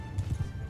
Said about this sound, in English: Oh, horse, get over here. Come on, horse, follow me.